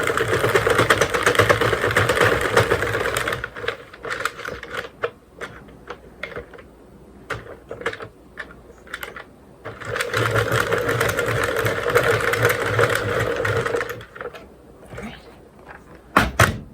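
A knitting machine knits a row of gray yarn, its carriage giving a loud, steady mechanical clatter in two long sustained passes, with a quieter stretch of scattered clicks and knocks in between.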